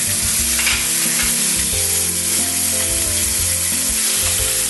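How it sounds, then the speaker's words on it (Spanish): Floured cod fries in a pan with a loud, steady sizzle and bubbling crackle that runs throughout, with no voices. "Ya se le da la vuelta al bacalao y ahora cuando esté frito se reserva"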